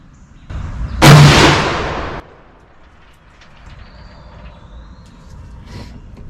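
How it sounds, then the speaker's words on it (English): A Tikka T3x rifle fires one shot of a 150gr custom hand load, a single loud sharp crack with a rolling boom that decays over about a second, then quiet outdoor ambience. "We'll fire another round here."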